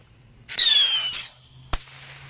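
Red bottle rockets go off outdoors: a loud whistling hiss rising in pitch, a second short whistle, then a sharp pop, all close and punchy against a quiet background.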